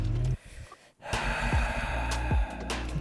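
Deep breathing during a Pilates stretch, a slow inhale and a long audible exhale heard close, soft and unhurried, with no talk.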